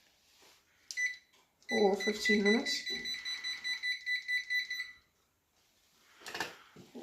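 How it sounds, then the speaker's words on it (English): Electronic beeps from an oven timer being set for fifteen minutes, sounding as a steady run of short, evenly spaced pulses over a few seconds, close by, with a voice talking over the start. "We'll also set the timer for 15 minutes on the oven."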